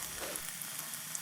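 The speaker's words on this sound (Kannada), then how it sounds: "ಹೂಕೋಸನ್ನ ಇವಾಗ ಕಲಸಿಟ್ಕೊಂಡಿದ್ವಲ್ಲ, ಸೊ ಒಂದೊಂದೇ ಹಾಕ್ತಾಯಿದ್ದೀನಿ ಎಣ್ಣೆಲಿ ಫ್ರೈ ಮಾಡಲಿಕ್ಕೆ" Battered cauliflower pieces frying in hot oil for gobi, a steady close sizzle and crackle with small pops, alone without talk.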